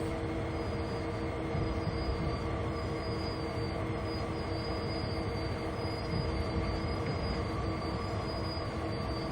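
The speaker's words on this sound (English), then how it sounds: "let's bring the train down to a stop. Just gonna apply some brakes." A train in Train Sim World 2 brakes to a stop: constant loud rolling rumble with a thin, sustained wheel squeal and brake hiss, steady throughout with no speech.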